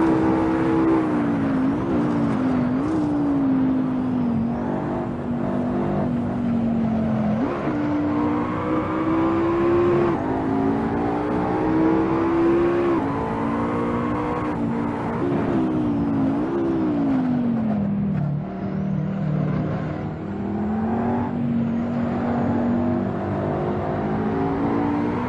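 A race car in Assetto Corsa at Monza holds full throttle against a Lotus, its engine droning loud and close, pitch climbing through gears with brief dips at each shift.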